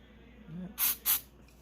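Two sharp bursts of aerosol cleaner hiss close by onto a mass air flow sensor, one after another, over a faint background hum.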